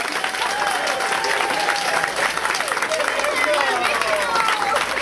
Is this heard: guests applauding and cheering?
yes